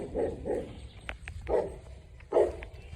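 Dogs on a farm bark in short bursts, about four or five barks spread out at moderate distance, with quiet outdoor ambience between them.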